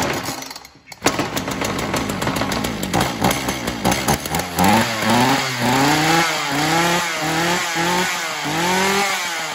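A Ryobi chainsaw that keeps cutting out starts with a few sharp pulls. It then runs loud and close, its engine rising and falling in repeated revving surges in the cold.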